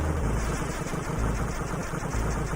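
Gunfire in the Commodore 64 game Predator, heard as a harsh, noisy chiptune rattle of rapid bursts that repeat steadily and loud without pause.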